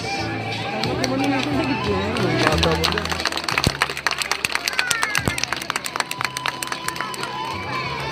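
A live audience claps and cheers at an event, a dense burst of applause that builds, then breaks into sharp, scattered individual claps, close and loud under a murmur of crowd voices.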